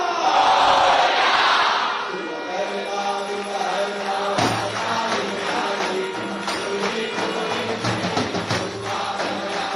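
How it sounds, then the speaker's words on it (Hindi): A large crowd of devotees at a Ganesh Chaturthi celebration roars and cheers loudly at first, then settles into a sustained murmur of many voices with scattered shouts. "हर जगह भक्तों की भीड़ भगवान गणेश के दर्शन के लिए आ रही है"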